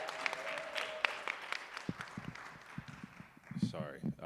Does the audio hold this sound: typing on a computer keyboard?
no